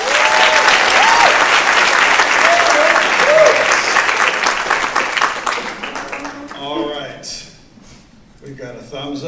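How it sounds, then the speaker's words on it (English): An audience at a seniors talent show breaks into loud, sustained applause that fills the room, with whoops over the clapping, before it thins out and a voice is heard speaking near the end. "how about another round of applause?"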